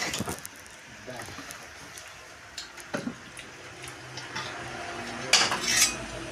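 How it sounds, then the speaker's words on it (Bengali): Cooked taro greens with hilsa fish head being scooped and poured from a pan, with scattered metallic scrapes and clinks of a utensil against cookware and a brighter clatter near the end. "কচু শাক হয়ে গেছে আর ঢেলে নিচ্ছি"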